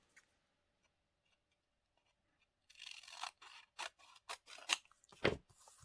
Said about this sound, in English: let's trim this.